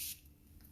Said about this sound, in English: I'm going to spray it as well.